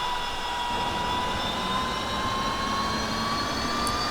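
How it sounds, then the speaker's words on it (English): A Huey UH-1 helicopter turbine spooling up in the DCS flight simulator, a steady loud whine with slowly rising high tones over a broad rushing roar, continuous and alone. "we should have a good engine start now"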